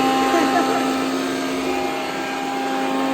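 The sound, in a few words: kitchen mixer grinder running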